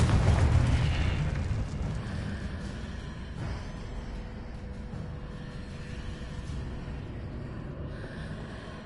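Confringo blasting spell in Hogwarts Legacy on PS5 sets off a loud, deep explosion that booms right away and then rolls into a long, slowly fading rumble with crackling debris.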